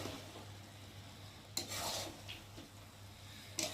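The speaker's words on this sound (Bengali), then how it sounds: "দিয়ে একটু ভালো করে নেড়ে দেবো।" Egg pulao with biryani masala is stirred in a pan, giving faint soft scraping and rubbing strokes with light sizzle, quiet and close, with a couple of brighter scrapes near the start and end.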